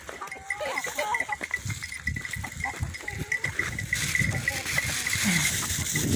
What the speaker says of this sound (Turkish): Bak keçiler de geldi. Keçiler de yiyor.